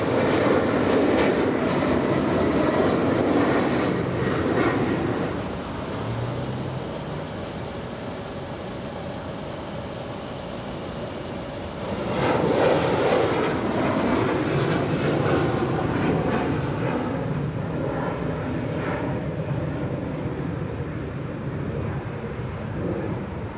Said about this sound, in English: And there goes SAM 46, the support plane following behind.